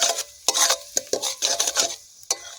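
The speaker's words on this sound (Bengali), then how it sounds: "ভালো করে ভেজে নেবো।" Aloo manchurian being fried and stirred in a pan, with a spoon scraping in quick irregular strokes over a soft sizzle, close and fairly quiet.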